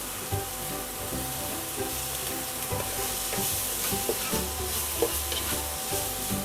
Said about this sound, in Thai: แล้วก็รวนไปเรื่อย ๆ นะครับ ตอนนี้หมูสามชั้นเราก็ได้ที่แล้วนะครับ